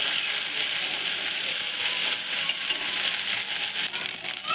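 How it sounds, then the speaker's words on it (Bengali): Ginger, cumin and chili paste fry in hot oil, a dense, even hiss of sizzling that runs close and steady throughout. "এবার তেলের মধ্যে আদা জিরা লঙ্কা বাটাটা দিয়ে দিলাম। এবার ভালো করে একটু ভেজে নেব মশলাটা।"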